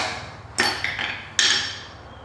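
Two sharp metallic hammer taps drive a bolt into a Club Car DS golf cart spindle, each ringing briefly and decaying, close and clear over a low background hum.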